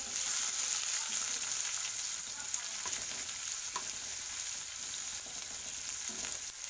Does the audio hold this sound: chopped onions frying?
yes